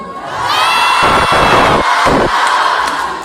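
A cinema audience at a screening of the French comedy Les nouvelles aventures d'Aladin, starring Kev Adams, shouts and cheers loudly and continuously, a dense, near roar of many voices with a few sharp bursts.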